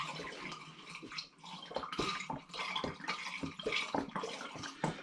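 Spiced apple cider pours and splashes into a glass demijohn in an uneven, gurgling stream that runs for several seconds and is heard up close.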